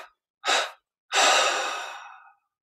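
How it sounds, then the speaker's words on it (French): A person exhales slowly during a relaxed breathing exercise, in three separate breaths: a short faint puff, a brief breath out, then a longer breathy exhale that fades gradually, each close and clear against silence. "Expire en 3 fois."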